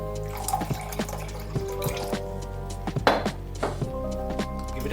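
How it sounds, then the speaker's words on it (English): A small amount of water trickles and drips into a sauce of maple syrup, chopped ginger and garlic, with light splashes and clinks of the container, close and alone. "Also to mix it, I'll add just a little bit of water."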